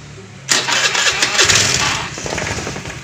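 A cold motorcycle engine cranks and catches after a brief quiet pause. It then settles into a steady, fairly loud idle.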